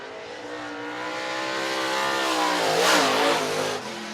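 A race car engine on a speedway during qualifying revs up into a long, loud, rising roar as the car passes fairly close, then drops away sharply.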